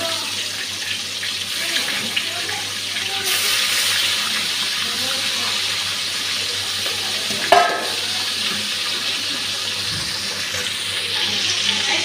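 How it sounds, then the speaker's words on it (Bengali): Oil-coated fish pieces frying in a pan make a continuous, moderately loud hiss and sizzle, with a brief clatter partway through and faint background movement. "এগুলো ভাজতে দিয়ে দিচ্ছি।"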